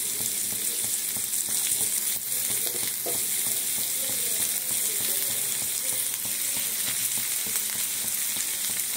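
Tomatoes go into a hot frying pan for kadai paneer and sizzle with a steady, dense crackle of frying oil throughout, close and even, with light stirring.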